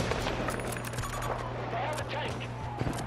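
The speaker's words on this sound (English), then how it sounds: "He's shooting the crap out of me." Rapid gunfire in the military shooter game Squad, dense crackling shots and bursts from close range, with a player speaking over the fire.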